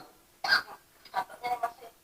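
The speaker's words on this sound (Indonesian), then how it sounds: "Oh, batuknya masih." A person coughs and clears their throat in several short, close bursts, one sharp hack followed by a cluster of smaller coughs, fairly quiet.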